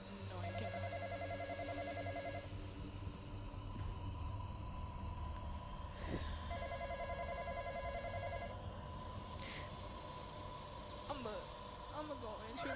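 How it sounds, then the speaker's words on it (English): Telephone ringing in a video game, with two bursts of trilling electronic rings a few seconds apart over a steady low rumble, while players talk throughout. "Not the phone. I am not answering that. We gonna have to deal with it ringing."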